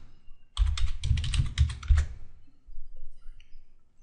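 Quick typing on a computer keyboard for about a second and a half, a close burst of crisp key clicks, then quiet apart from a few faint stray sounds.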